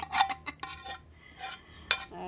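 A spoon stirs and mixes a cooked dish with ricotta in a pan, making several short scraping, clinking strokes at an uneven rhythm, heard close and alone.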